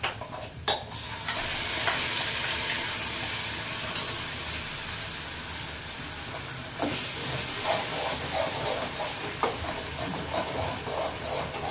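Ground masala paste going into a hot frying pan for egg sambar, with a steady sizzle and hiss under repeated scraping stirs, close and continuous throughout with no voices.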